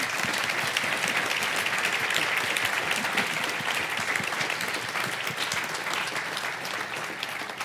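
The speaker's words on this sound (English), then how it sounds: "I'd like to give a round of applause to my esteemed panel." An audience applauds a women-in-technology panel at a tech conference, a steady, dense clapping that carries on at even strength and tapers slightly toward the end.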